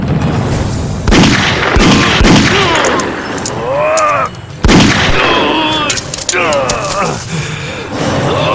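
Gunfire in a dubbed action movie: loud sharp shots, one near the start and another mid-way, cutting through a dense mix of dramatic music and sweeping effects.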